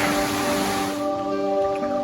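Waterfall in Victoria Park, Truro, a steady broadband rush of falling water heard alone and fairly close, with no talk over it.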